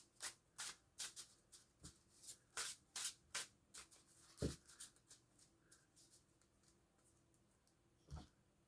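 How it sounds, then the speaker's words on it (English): A tarot card deck being shuffled by hand, a run of quiet, crisp riffling bursts in quick rhythm for about four seconds, then a few sparse taps and slides near the microphone. "so we just shuffle the deck."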